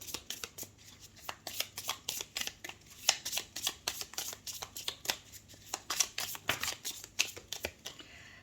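Oracle cards shuffled by hand for a reading, with a steady run of quick, close, papery riffles and slaps repeating rhythmically.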